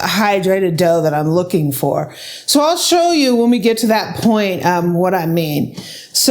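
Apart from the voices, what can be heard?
No everyday noise stands out behind the speech.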